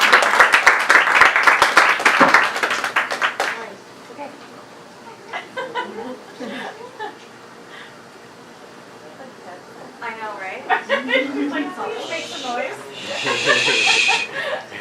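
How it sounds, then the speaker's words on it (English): A comedy club audience claps and cheers loudly for a comedian for several seconds, then quiets as a voice speaks, with scattered chuckles and more clapping returning near the end. "Start clapping your hands right now."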